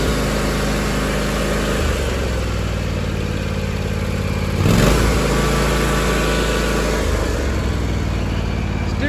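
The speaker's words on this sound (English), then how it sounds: "Got a Kawasaki 24 horsepower engine with good throttle response." The Kawasaki 24-horsepower engine of a John Deere X570 garden tractor runs loud and steady up close, holding a constant throttle with a brief surge partway through and no talking.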